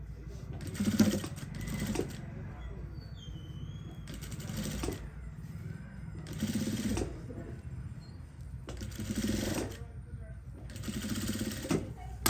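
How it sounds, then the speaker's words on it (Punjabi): A sewing machine stitching the neckline of an embroidered suit runs in short repeated bursts of rapid clatter, with a person talking quietly between and over the stitching. "ਇਹਦੇ ਉੱਪਰ ਆਪਾਂ ਸਾਰੇ ਗਲੇ ਦੇ ਉੱਪਰ ਇਸ ਤਰ੍ਹਾਂ ਮਸ਼ੀਨ ਨਾਲ ਕੱਚੀ ਪਾ ਦਾਂਗੇ"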